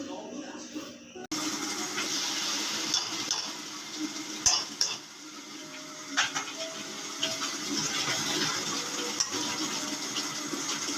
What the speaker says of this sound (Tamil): சூப்பு பட்டர் போட்டு தாளிச்சிக்கலாம்